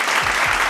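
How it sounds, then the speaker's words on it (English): Studio audience clapping on a basketball talk show: a loud, dense burst of steady applause filling the whole short moment, with no voices over it. "Everyone goes get some claps"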